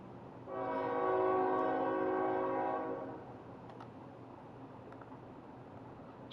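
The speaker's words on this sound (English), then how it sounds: "Train, we get it." Train sounding a long, loud horn near a rail yard, a steady harmonic blast lasting about two and a half seconds before dropping to a low rumbling background.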